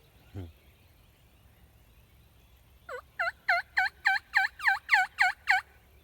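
A wild turkey gobbles in a rapid run of about nine bubbling calls, fairly distant, after a single low thump, in an otherwise quiet outdoor setting near a creek.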